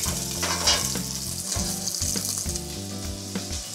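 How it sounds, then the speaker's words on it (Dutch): Cheek meat sizzles and spits steadily as it is seared on all sides in a hot pan, with occasional soft clinks and scraping as pieces are moved around. "Dan gaan we gewoon een stukje gesneden wang bakken langs alle kanten."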